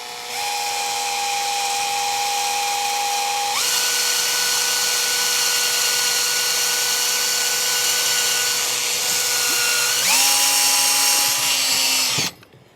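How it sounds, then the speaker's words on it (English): A power drill boring into a cracked wooden stock of a Krag rifle, a steady high whine held close and loud for several seconds, shifting pitch twice as the bit loads, then cutting off. "And you're just going to drill right into the crack, and you're going to actually drill beyond the crack as much as you can,"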